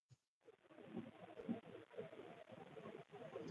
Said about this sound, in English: It sounds like it could be a finch.